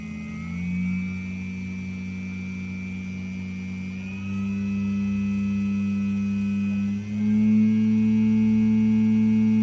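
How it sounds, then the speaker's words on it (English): Small electric motor running on an adjustable power supply, a steady tonal whine and hum whose pitch drops in steps as the voltage is lowered, with one brief dip before settling lower. "when I lower the voltage, the motor speed also goes down"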